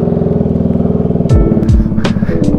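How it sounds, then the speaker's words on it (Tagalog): An FKM 3GP motorcycle fitted with an AR exhaust rides off, its loud pulsing idle giving way to sharp throttle blips and revving close by. "Sobrang aggressive na itong motor na to."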